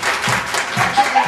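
A crowd claps in a rough rhythm, with loud, close claps recurring under a lively hum of voices and faint laughter.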